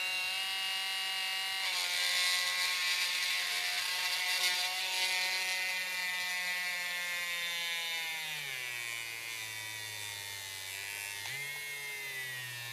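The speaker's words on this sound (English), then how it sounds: "I got this little teeny tiny drill" A small cordless drill whines steadily at high pitch drilling small holes in resin, its motor tone sagging and wavering toward the end as it slows under load.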